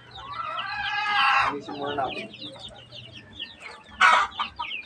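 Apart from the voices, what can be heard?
chickens clucking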